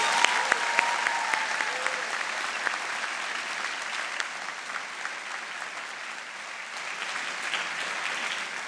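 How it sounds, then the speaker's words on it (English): A large crowd applauds the graduating class of 2024 at a spring convocation ceremony, with steady, dense clapping that fills the hall and holds a fairly even level from start to finish. "How about a huge round of applause one more time?"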